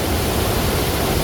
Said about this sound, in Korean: 청계 광장을 지나면 폭포에 도착하는데요.